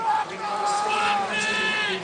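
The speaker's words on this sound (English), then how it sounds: "It's a big crowd." Large crowd of basketball fans filling Maples Pavilion at Stanford on a Sunday afternoon, a loud, steady roar of cheering voices and shouts with whistle-like tones rising through it.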